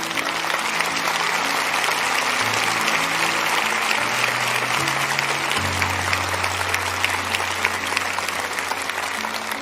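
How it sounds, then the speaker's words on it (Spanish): Sustained applause from a large audience, dense and even clapping throughout, with organ or keyboard tones sounding underneath. "dándoles el mejor aplauso que usted pueda dar"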